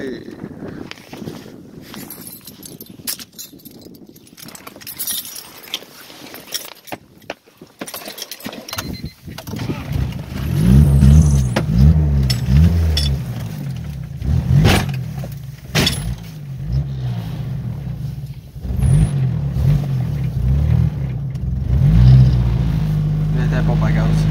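A car engine drones and rises in a snowstorm, loud and steady through the second half and tapering off near the end. Earlier there are knocks and rustling, and a voice speaks in places.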